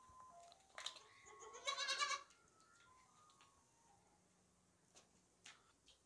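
A goat, one of a mixed herd of goats with kids, lets out a clear, close bleat in the quiet, alongside a few fainter calls and small clicks from the farm setting.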